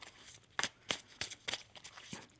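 Tarot cards are shuffled up close in a quick run of crisp riffling snaps, about six sharp flutters in a little over two seconds, with nobody speaking.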